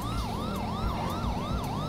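A police siren wails, sweeping up and down in a fast repeating cycle, loud and close, over a low engine rumble, in GTA 5 roleplay.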